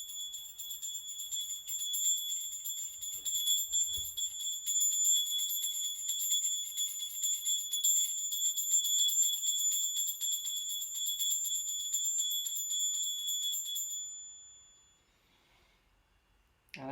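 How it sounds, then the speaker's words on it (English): A small bell rings over burning incense, its steady high shimmering tone sustained for many seconds before fading out, heard alone in a quiet room. "so I'll just do a little bell over this"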